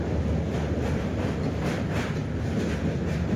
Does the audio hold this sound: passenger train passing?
yes